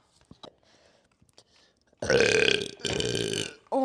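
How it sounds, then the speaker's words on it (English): A woman lets out a series of loud, drawn-out burps near the microphone with no drink taken. Quiet breathy sounds come first, then two long croaking belches back to back, and a third starts at the very end. "I'm burping with no drink in me"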